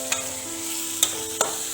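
Tomatoes sizzle steadily in a pan for a masala curry, with three quick scraping stirs of a spoon at the start, in the middle and near the end; close and clear, with no talking.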